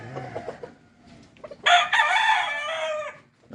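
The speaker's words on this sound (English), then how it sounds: "somebody's raising a bunch of fighting cock back here" Fighting roosters nearby: soft clucking and low calls, then one loud, close, drawn-out crow lasting over a second before fading.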